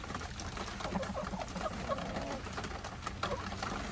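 Pet chickens in a coop kept in by constant rain make soft, continuous clucking and murmuring, close and fairly quiet, with occasional louder calls rising above a steady background.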